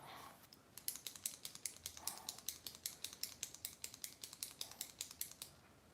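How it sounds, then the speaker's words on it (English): A pen clicks rapidly and repeatedly close by, in a steady run of about thirty sharp, even clicks with no talking. "That's my pen clicking, by the way."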